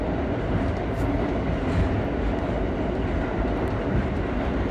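An R32 subway car on the New York F line running at speed, a loud, steady roar of wheels and rattling car body filling every moment without letup.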